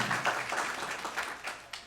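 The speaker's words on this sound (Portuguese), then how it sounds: "Uma salva de palmas para eles." A lecture audience gives a short, faint round of clapping for the presenters, scattered hand claps tapering off within a couple of seconds.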